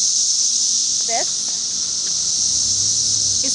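A dense, steady high-pitched cicada buzz drones continuously, loud and close, with a few brief faint chirps over it, in the Chicago area.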